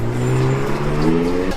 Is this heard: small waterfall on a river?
no